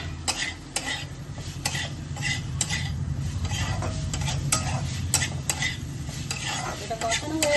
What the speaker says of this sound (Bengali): তো ভালো করে আমি কষিয়ে নিচ্ছি